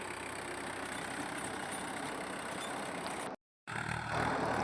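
A tractor engine runs steadily while ploughing a field, a constant mid-pitched drone heard close, briefly cut to silence before resuming slightly louder.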